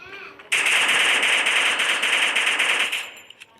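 Rapid automatic gunfire in a video game, one sustained burst of about two and a half seconds, loud and close, ending abruptly with a couple of faint clicks after.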